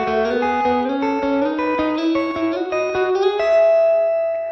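Electric guitar plays sixth double stops moving up the scale, with clear two-note chords stepping upward in a steady rhythm through effects and reverb, ending on a sustained ringing pair.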